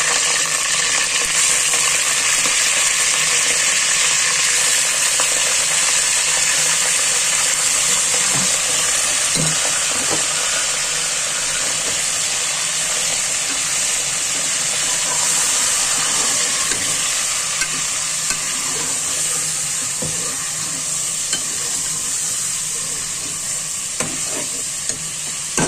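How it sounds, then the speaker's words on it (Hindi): Beef is stirred into hot tomato masala in a pan and fries with a loud, continuous sizzle and hiss. Occasional spatula scrapes and knocks against the pan come through close up, with no talking. "अब इसमें हम डालेंगे गोश्त।"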